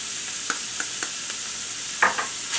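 Onions and garlic stirred into browned minced meat in a hot pan, a steady sizzle punctuated by several sharp spoon taps and a louder scraping stir near the end.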